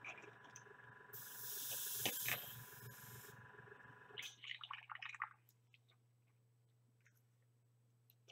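An airbrush loaded with very watery paint lets out a loud steady hiss for a few seconds, then cuts to irregular sputtering spits and pops, fading to quiet under a low electrical hum.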